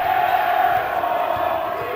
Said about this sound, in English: he's hearing it from the North Quincy crowd